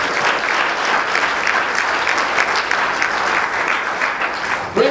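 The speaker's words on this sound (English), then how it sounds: "Can you please give her a resounding applause?" Sustained, loud audience applause for a government minister at a cash grant handout event for vulnerable residents, steady dense clapping throughout with no break.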